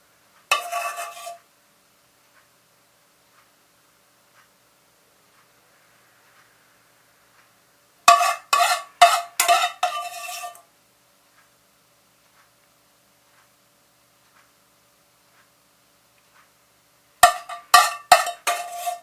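A metal spoon clinks against a plate in three short clusters of light taps and scrapes while Mornay sauce is spooned over four pieces of fish, each cluster separated by long silence.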